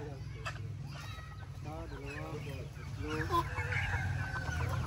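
Chickens cluck and call repeatedly at close range amid a busy farmyard, with people talking faintly in the background.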